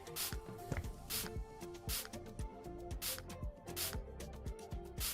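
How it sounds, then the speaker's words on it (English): Cleaner sprayed in a Halloween-themed house-cleaning video game, a series of short hissing spray bursts repeating in an uneven rhythm over soft game tones and clicks. "That's right, we can spray."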